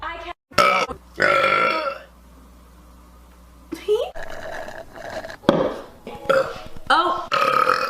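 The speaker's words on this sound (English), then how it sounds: "Ew, I'm literally burping up the taste of pickle." Several loud, drawn-out burps from a person who has just eaten pickle, coming in separate bursts with a quiet gap between them and short stretches of voice mixed in.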